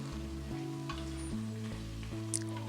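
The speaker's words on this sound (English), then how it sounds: "keep stirring and frying it until all the vegetables have softened quite a bit" Vegetables sizzling and frying in a hot pan, a constant crackling hiss with low, faint clatter and scraping of stirring underneath.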